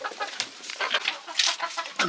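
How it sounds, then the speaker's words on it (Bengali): Several chickens cluck and chatter in short, overlapping bursts as they are fed, close by, with scattered sharper calls throughout. "প্রথমে আমি মুরগিগুলো একটু খাওয়া দিয়ে দেবো"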